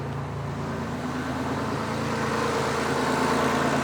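A Mitsubishi Shogun engine idles steadily on LPG gas, a continuous close low rumble with broadband hum holding even throughout, with no talk over it.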